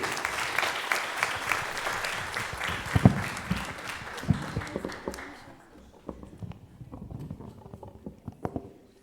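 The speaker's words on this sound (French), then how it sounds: "Alors un applaudissement pour Amy parce qu'elle a bien compris." A church congregation claps at a Sunday Mass homily. The applause is a dense spatter of hand claps that thins into scattered, fading claps toward the end.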